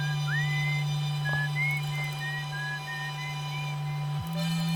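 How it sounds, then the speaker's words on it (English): A whistling signal in the Outer Wilds video game, a series of short, clear whistled tones that rise and wander over a steady electronic hum, faint and alone with no talk. "Sounds like whistling."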